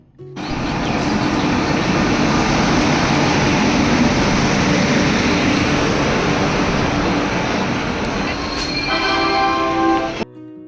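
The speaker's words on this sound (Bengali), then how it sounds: "ট্রেনও চলে এসেছে প্ল্যাটফর্মে" A train rumbles steadily into Bandel station, loud broadband rolling noise throughout with a brief higher tonal squeal near the end as it slows.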